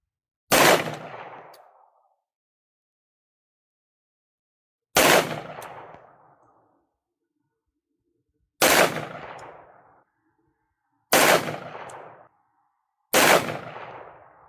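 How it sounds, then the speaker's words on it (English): Five separate rifle shots fired at a target, each a sharp loud crack with a short decaying echo, spaced a few seconds apart in otherwise quiet surroundings. "We're going to fire 5 shots into that bottom left target."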